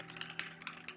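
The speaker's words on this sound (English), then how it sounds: "You could hear what buttons I pressed on my keyboards from the sound." Fast typing on a computer keyboard during a gaming stream, a quick run of close, crisp key clicks in an even rhythm with no talking.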